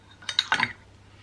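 A spoon stirring tea in a cup makes a quick run of three or four light metallic clinks against the side, close and soft, over quiet background hum.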